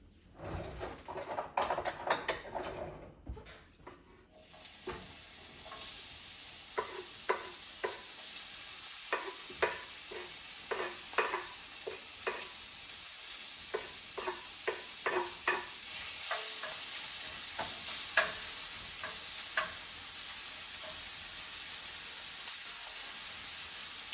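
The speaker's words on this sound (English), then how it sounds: "We're gonna go ahead and get our bacon frying over here." Continuous sizzling of bacon frying in a pan, with a steady hiss and scattered crackles and pops, after some brief clattering at the start.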